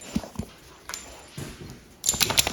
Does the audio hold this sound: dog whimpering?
yes